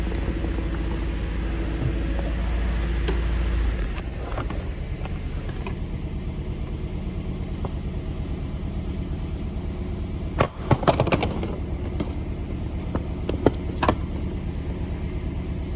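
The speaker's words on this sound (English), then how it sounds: "I definitely feel it misfire." A car engine runs with a misfire, holding a steady mechanical drone throughout. A few sharp clicks and knocks cut in near the middle, and no voices are heard.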